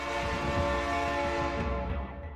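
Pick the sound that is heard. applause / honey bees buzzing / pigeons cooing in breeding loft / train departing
train departing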